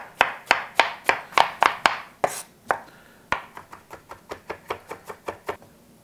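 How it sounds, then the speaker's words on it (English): Knife roughly chopping scooped-out zucchini pulp on a cutting board, a run of sharp, evenly spaced thuds, quick at first, then a short pause and a lighter, steadier series. "it's time to just to give it a nice rough chop."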